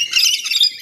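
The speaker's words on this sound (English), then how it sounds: "They're very noisy, aren't they? Very noisy little birds." Small, noisy birds feeding beside cockatoos give a burst of dense, high chirping, close and loud for under a second with no talk.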